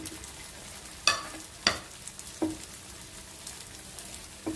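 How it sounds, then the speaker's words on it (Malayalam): Semolina and banana dough balls dropped one by one into hot oil, giving a soft, faint sizzle broken by a few sharp pops and spits spaced about half a second apart. "ഇപ്പൊ എണ്ണ ചൂടായിട്ടുണ്ട്. നമുക്ക് ഇതിനകത്തോട്ട് ഓരോ ഉരുണ്ടയും ഇട്ട് കൊടുക്കാം."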